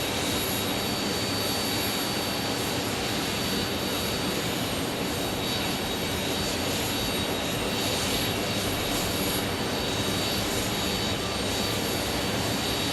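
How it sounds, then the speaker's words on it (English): An Air France Airbus A350 at Phoenix Sky Harbor, heading back to Paris, runs its jet engines in a constant loud roar topped by a thin high whine, unbroken throughout. "the Air France A350 is headed back to Paris"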